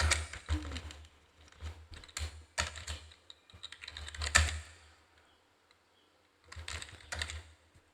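Keys clatter on a computer keyboard while text is entered in MS Word, in quick bursts of clicks with short pauses and a longer gap before the typing resumes.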